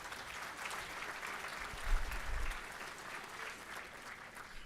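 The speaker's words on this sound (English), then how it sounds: "Please give our head table a nice round of applause." Banquet crowd at a collegiate livestock judging awards dinner giving a round of applause, a continuous wash of many hands clapping, moderately distant and even, with a brief swell in the middle.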